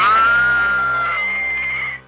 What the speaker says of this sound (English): Jamie Lee Curtis has a good scream.